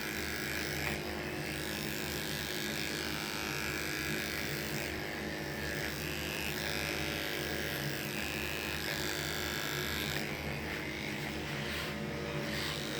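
Electric hair clippers cutting a skin fade, swinging from flat through mid to high blade positions; a steady, close buzzing drone holds for the whole stretch, with no talk over it.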